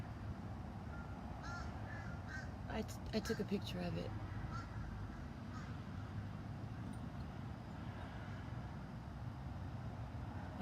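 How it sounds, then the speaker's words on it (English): Crows caw in a short burst of harsh calls partway through, faint and distant outdoors beneath a person talking, with steady background noise throughout. "the crows are like doing some different stuff"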